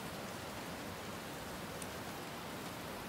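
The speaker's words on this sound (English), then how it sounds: "it's just not safe to walk in this kind of rain" Heavy rain falls on the Appalachian Trail in Tennessee as a steady, dense, even hiss with no breaks and no voices.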